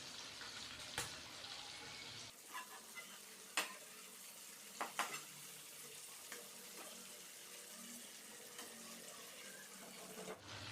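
Chicken that has been fried for 7 to 8 minutes is lifted out of a frying pan, with a faint continuous sizzle of oil underneath a few scattered clinks and scrapes of the utensil.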